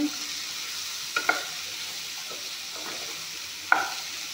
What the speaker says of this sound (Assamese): এইখিনি অলপমান ভাজি লওঁ অমিতাখিনি।